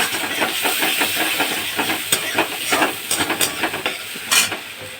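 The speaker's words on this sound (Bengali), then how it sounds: "মাছের তেলেই আমি বেরেস্তার পেঁয়াজটা দিয়ে দেবো। দিয়ে আমি ভেজে তুলে দেব" Sliced onions fry in oil left from frying fish, a steady hissing sizzle close by, with scraping stirs and sharp spatters breaking through toward the end.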